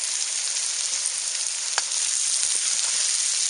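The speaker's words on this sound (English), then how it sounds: "add cut up baby carrots" Sliced baby carrots and onions frying in a wok give off a steady, fairly loud sizzle that holds through the whole stretch, with one brief tap near the middle and no voices.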